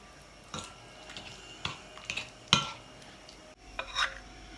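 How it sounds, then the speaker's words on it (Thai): Soft wet stirring and scraping of a thick coconut cream batter for Thai corn pudding in a bowl, a few distinct squishy strokes with quiet pauses between them. "เสร็จแล้วก็คนให้ทุกอย่างเข้ากันนะคะ"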